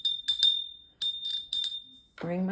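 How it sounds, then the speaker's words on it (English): A small bright bell rings in several quick clusters of strikes with short pauses between them, close and clear, with a voice starting at the very end. "Ring my bell."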